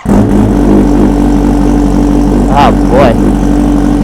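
Kawasaki Ninja H2R supercharged motorcycle after a cold start, a loud, close, steady idle with a dense low rumble and two short blips of revs, while someone speaks briefly over it.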